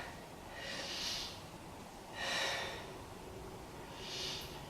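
Deep, slow breathing held through a yoga pose, three long airy exhales spaced evenly about a second and a half apart, close and soft with no talk.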